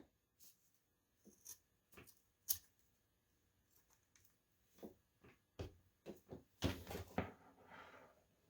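Scissors cut through cotton cord in a quiet room, with a series of separate close snips and clicks, sparse at first, then a denser cluster of louder crunching cuts near the end.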